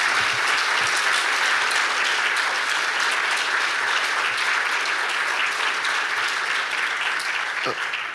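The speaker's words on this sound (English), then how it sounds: "Please give them a round of applause" A conference audience gives sustained applause after a presentation on ending racism in science, medicine and global health; dense, even clapping holds at steady volume throughout, with a few low thumps.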